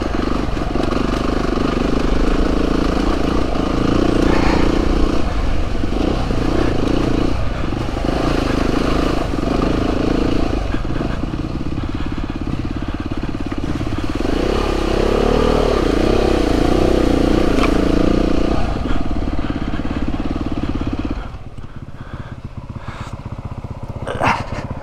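Beta 390RR trail motorcycle ridden on a leaf-covered woodland trail, its engine loud and close throughout with repeated throttle surges and revs over clattering ground noise, fading quieter near the end.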